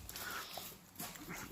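A small dog whimpering close by in short, soft, high whines with quiet pauses between them.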